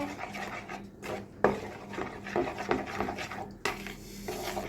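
A spoon stirs a dough mixture for mini pizza in a bowl, making close scraping and clinking strokes with a few sharper knocks against the sides, irregular and fairly loud.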